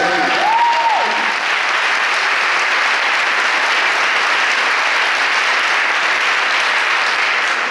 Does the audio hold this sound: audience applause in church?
yes